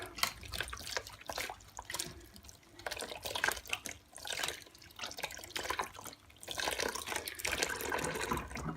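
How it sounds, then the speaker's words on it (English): Tap water runs over a winged fairy doll as it is rinsed under a faucet. The flow is soft and uneven, splashing and dripping as the doll is turned under the stream. "so I'm going to actually rinse her under the tap"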